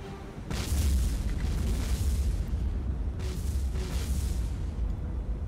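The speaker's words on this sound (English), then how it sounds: "one of my destroyers has just started to explode again" A destroyer blows up in the naval warfare game War on the Sea, two heavy booming explosion bursts with broadband roar rolling over a sustained low rumble, loud and close.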